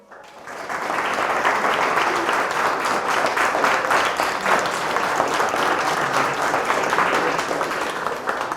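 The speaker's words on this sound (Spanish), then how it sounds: "ahorita que aplaudieron fueron un sistema complejo y se empezaron a sincronizar" Sustained audience applause at the close of a scientific talk on neural synchronization, a dense, steady clatter of many hands that swells in within the first second and holds at full strength throughout.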